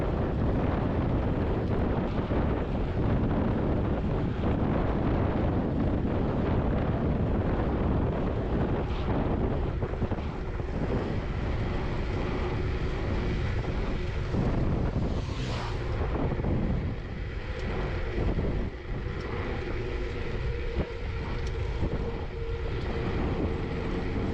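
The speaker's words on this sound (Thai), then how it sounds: "เสียงลมตีโคตรแรงอะ่ะ" Strong wind batters the microphone during a long mountain bike ride, a loud continuous roaring rumble for the whole stretch with no speech.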